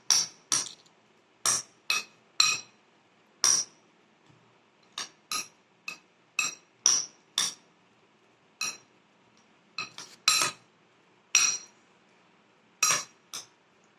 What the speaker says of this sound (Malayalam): നമുക്ക് ഒന്നും കൂടെ ഇളക്കാം